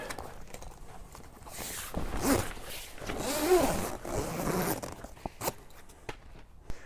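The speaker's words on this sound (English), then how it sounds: "I'm just going to zip this all the way around." A zip runs around a canvas freestanding awning as it is fastened on, soft intermittent rasping strokes up close and fairly quiet, with faint rustling of fabric.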